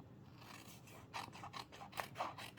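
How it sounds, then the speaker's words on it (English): Scissors snip around the paper flap of a handmade card envelope, a quiet rasping scrape at first, then a run of short close cuts, about five crisp snips in quick succession with no voice. "So just cut around the flap."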